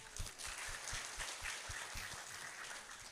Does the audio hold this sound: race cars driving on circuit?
no